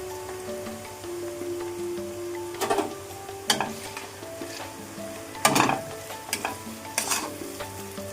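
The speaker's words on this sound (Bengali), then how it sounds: "গরম হয়ে গেছে, এবার আমি পেঁয়াজটা দিয়ে দেবো।" Sliced onions fry in a generous pool of hot oil with a steady sizzle, broken by several louder scraping stirs of a spoon against the pan, over a soft tonal hum in the background.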